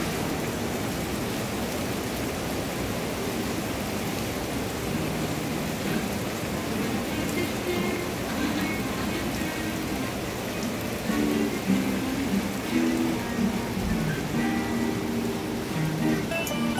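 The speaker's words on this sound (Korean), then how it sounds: "오늘은 뜨거운 열기를 식혀준 한 줄기 소나기가 흠뻑 쏟아지고 있는데요" A heavy summer rain shower pours down as a steady, dense hiss of drops. Faint musical tones sit low beneath the rain.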